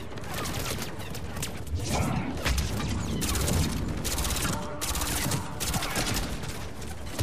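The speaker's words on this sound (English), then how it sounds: "here's me walking right into gunfire" Gunfire in the sci-fi shooter Mass Effect 3, a dense, continuous fusillade of overlapping shots and booms filling the whole stretch, with a voice talking underneath.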